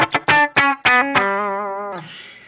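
An electric guitar on its bridge pickup plays through a Bassman amp with a clean tone: five quick plucked notes, then a sustained ringing note that slowly fades and ends in a brief string scrape, up close.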